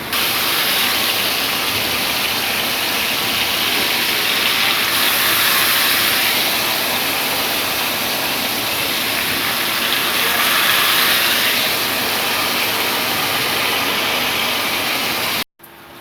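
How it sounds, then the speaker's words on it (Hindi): Chicken pieces frying in hot oil for tandoori chicken, a loud steady sizzling hiss that swells and eases slightly, continuous throughout with no talking. "अभी तो फ्राई हो रहा है"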